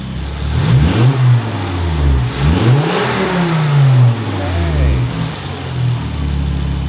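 A Volvo car engine with a modified intake revving close by, three rising and falling revs over a loud idle, no talk.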